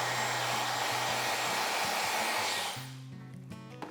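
A hair dryer blows steadily and loudly on foil-wrapped strands during hair coloring, a broad whooshing roar with a motor hum that drops off near the end as it is switched off or moved away.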